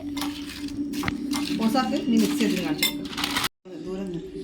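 Food being mixed in a pot, with clinking of a utensil against metal and soft squishing, steady and close, a sharp gap near the end before the stirring resumes, while people talk over it.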